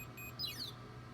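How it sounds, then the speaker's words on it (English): A Tajima embroidery machine gives a short electronic beep followed by a quick rising chirp, clear but not loud, over a low steady machine hum. "it's going to start beeping at you"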